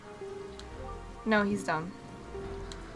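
Rain in the video game Wind Waker HD hisses steadily in the background while someone talks briefly over it, with soft in-game tones mixed in.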